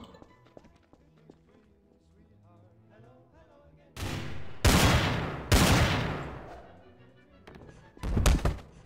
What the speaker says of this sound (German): Da hinten sind Schüsse.